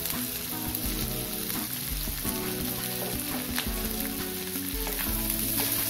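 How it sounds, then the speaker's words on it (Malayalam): Finely chopped onions sautéing in hot oil for a coconut-free fish curry give a steady dense sizzle throughout, with a melodic tonal background underneath and no talk. "സവാള ഒന്ന് ചെറുതായിട്ടരിഞ്ഞ് നന്നായിട്ടൊന്ന് വഴറ്റിയെടുക്കാം"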